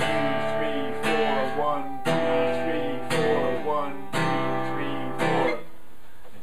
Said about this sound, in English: the strong beat, uh, or the actual strum, the pulse on the second and fourth beat